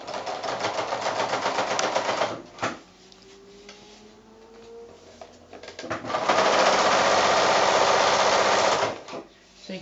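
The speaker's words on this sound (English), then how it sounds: "So you can see that's sewing quite nicely." A sewing machine stitching PVC coated fabric for a small shopping bag runs in two loud, close, rapid bursts, with a quieter pause of handling and faint talk between them.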